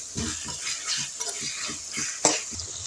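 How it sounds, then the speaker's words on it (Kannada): Ginger and garlic frying in hot oil for a liver and gundkaii pepper fry, a steady close sizzle broken by rhythmic scraping strokes of a spoon stirring against the pan. "ಶುಂಠಿ ಬೆಳ್ಳುಳ್ಳಿ ಹಾಕೋತಾ ಇದ್ದೀನಿ ಫ್ರೆಂಡ್ಸ್. ಇದು ಚೆನ್ನಾಗಿ ಸ್ಮೆಲ್ ಹೋಗೋ ತನಕ ಹುರ್ಕೊಳ್ಬೇಕು."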